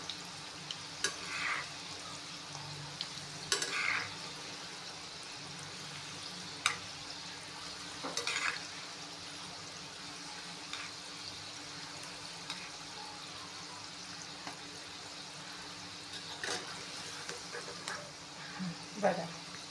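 Modak dumplings fry slowly in a little oil over low heat, giving a soft, steady sizzle with occasional light stirring and scraping, faint and close, with no speech.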